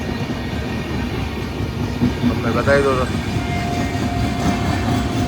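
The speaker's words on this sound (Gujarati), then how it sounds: "રેલગાડી નીકળી, રેલવે સ્ટેશન છે, ડબલ ડેકર ગાડી નીકળી છે" A double-decker train rolls along the railway track beside a station, a continuous rumbling clatter with a brief horn-like tone midway, while someone talks over it nearby.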